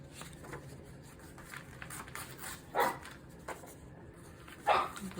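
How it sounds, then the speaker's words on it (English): A dog barks a few times in another room, two sharp yelps standing out over quiet indoor background while someone works with paper at a craft table. "Pardon my dog's barking"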